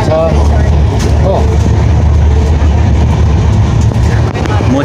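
Steady loud rumble of a moving passenger train heard from inside the carriage, a continuous low roar with rattling that never lets up, with faint voices beneath the din.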